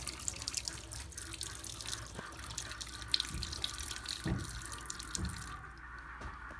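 Water runs from a faucet during plumbing and framing work, a steady hissing splash with scattered drips and small knocks, fairly quiet and continuous before tapering near the end.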